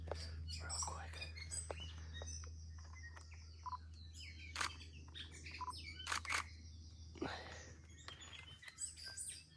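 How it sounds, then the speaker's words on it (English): A tui calls over a steady low hum on a remote New Zealand island, a mix of liquid notes, clicks and sharp whistles, moderately loud and close. "That guy you hear calling is the tui"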